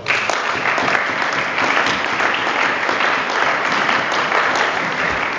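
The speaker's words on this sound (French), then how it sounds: "Est-ce que quelqu'un peut acclamer la parole de Dieu?" A church congregation applauding and cheering to acclaim the word of God, with loud, dense, continuous clapping from many people that fills the room without a break.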